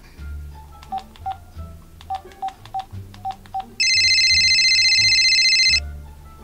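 A telephone keypad is dialed with about a dozen quick beeps in irregular clusters. A loud, sustained electronic ringing tone follows for roughly two seconds, then cuts off.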